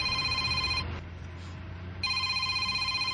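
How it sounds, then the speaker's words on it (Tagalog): An incoming call rings on a mobile phone as a loud, close electronic ringtone with steady tones, breaking briefly in the middle before the ringing resumes. "Si Abdul, nanawag."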